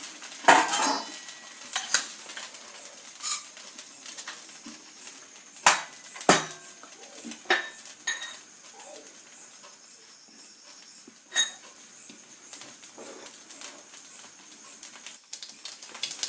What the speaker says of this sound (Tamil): கடுகு வெடிச்சிருச்சு